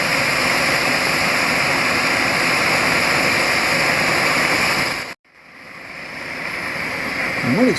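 An old, ancient paraffin camping stove burns with a loud, steady roaring hiss that drops out abruptly for a moment and then builds back up close by.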